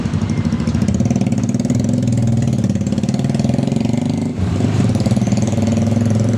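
A motorcycle engine runs steadily nearby with a throbbing idle-like drone, briefly dipping once before continuing at the same even pitch.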